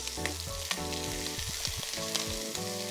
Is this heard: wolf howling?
no